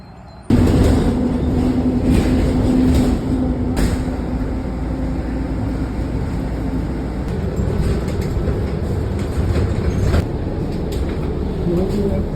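An MTA subway train pulls into the station with a loud, steady rumble and rail noise, broken by a few sharp clicks.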